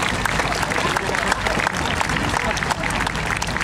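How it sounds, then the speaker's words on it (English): A crowd at a police dog display applauds loudly and continuously for several seconds, the dense clapping filling the open-air setting with a few voices mixed in. "Round of applause for that one, I think."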